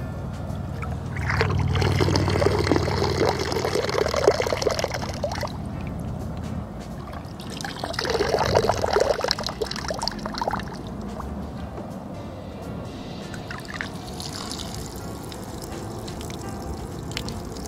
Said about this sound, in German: jetzt werde ich erstmal ein bisschen Wasser durchfiltrieren